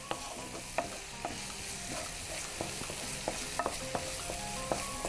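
Mushroom piccata frying in a pan is stirred with a utensil, giving steady sizzling under scattered scrapes and clicks against the pan, close and fairly quiet with no talking.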